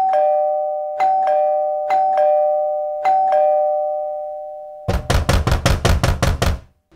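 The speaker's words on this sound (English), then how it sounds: "I guess we can just ring the bell." A doorbell chimes repeatedly in two-tone ding-dongs, loud and close, followed by a rapid burst of firm knocking on a door.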